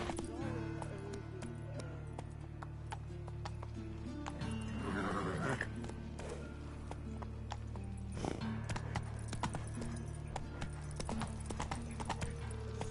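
Hooves clip-clop steadily as a horse gallops in The Witcher 3, with a whinnying neigh breaking through midway over a continuous game soundscape and low music; someone speaks briefly.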